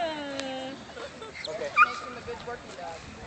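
A working dog at a search-and-rescue demonstration whimpers and yips in high, wavering bursts while clinging to its toy, close by, with a handler talking over and between the cries.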